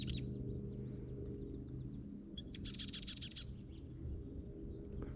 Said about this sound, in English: Some kind of bird down there having a nice sing-song.